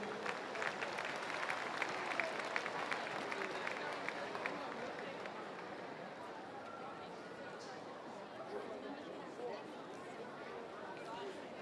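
A crowd at a campdraft championship round claps in sustained applause, loudest at first and then thinning into scattered clapping and distant murmur with a voice over a loudspeaker.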